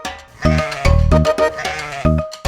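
A goat bleats loudly and close by in a long wavering cry broken into several pulses, heard alone without talk.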